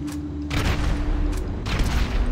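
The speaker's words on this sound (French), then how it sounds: "Obus en pleine tête." A tank shell explodes in GTA V Online, rendered as loud, heavy booming blasts that swell in two or three close bursts over a dense rumbling background.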